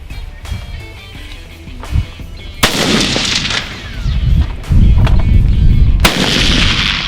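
Gunshots fired outdoors at a distant target: several sharp, loud cracks with echoing tails, spread irregularly over a few seconds.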